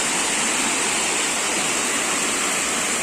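Turga or Bamni Falls, a waterfall roaring as a loud, dense, unbroken rush of water, constant and close with no voices over it.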